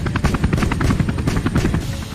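A video-game helicopter thumps with fast, loud, steady rotor beats that fill the whole clip, close and with no talk over it.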